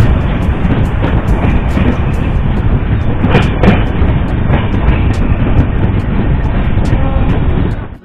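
A Janshatabdi Express train rolls into Sonipat Junction in Haryana, heard from on board as a loud, continuous rumble with steady clattering and clicking of the wheels over the rails for about eight seconds.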